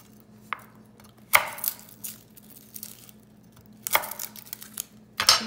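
Garlic cloves chopped on a board during vegan mushroom soup prep, three sharp crunching knife strokes spaced a couple of seconds apart with quieter crinkling between, close and distinct.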